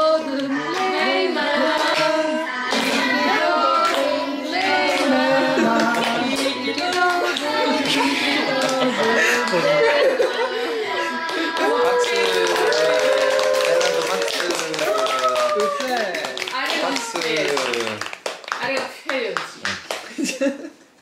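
Family and friends clap steadily for a child's first birthday party, a dense patter of hands running beneath overlapping voices and cheering for about twenty seconds before the clapping thins and breaks apart.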